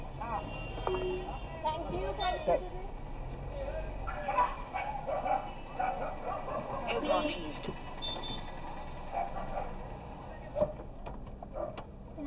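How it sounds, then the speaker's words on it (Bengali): A Bhutanese dog barks in scattered bursts, with a few yips, while people talk nearby on a trip near Buxa Fort. "ভুটানের ডগ।"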